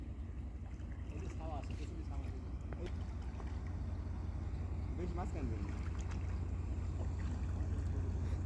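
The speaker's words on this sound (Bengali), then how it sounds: "ওই দেখেন একটা জাহাজ আসছে" A ship's engine drones low and steady on the water during a fishing outing, a constant rumble with wind and faint voices briefly rising above it.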